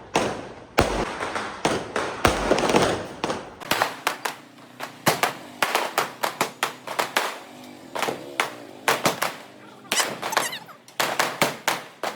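A rapid series of sharp bangs and pops from a 60-shot firework cake at a Diwali celebration, fairly loud with a dense crackling burst at the start and steady repeated shots after.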